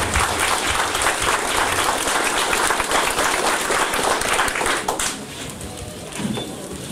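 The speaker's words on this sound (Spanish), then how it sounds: "Un aplauso para todos ustedes, por favor." A crowd at a contemporary Indigenous festival in San Jerónimo applauds, dense clapping filling the space loudly for about five seconds before thinning out into scattered claps and quiet.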